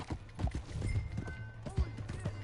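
Horse hooves clip-clop at a steady trot in Red Dead Redemption 2, the hoofbeats mixed with a low droning hum and a few other faint effects.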